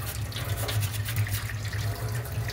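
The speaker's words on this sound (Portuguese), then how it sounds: "Estamos lavando aqui então o dissipador dela, tirando as marquinhas de oxidação que tem aqui." An RTX 3060 graphics card heatsink being rinsed under running water to remove oxidation marks, a close, steady gushing splash with a low hum beneath it throughout.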